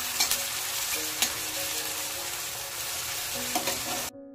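Onions frying in oil in a home kitchen, browning toward golden birista: a steady, close sizzle with occasional stirring scrapes, no talk, cutting off abruptly at the end.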